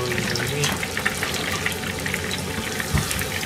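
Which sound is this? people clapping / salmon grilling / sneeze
salmon grilling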